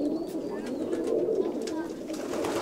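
Pigeons coo in low, throaty, rolling calls, a steady murmur of several birds close by, with faint voices mixed in behind.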